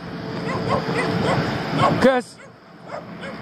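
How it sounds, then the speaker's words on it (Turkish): Puppies growl and whimper close by, with yips and a sharp rising whine, while a person speaks over them outdoors; the noise then drops to quieter background. "Bak yine yavru köpekler hırlamaya başladı."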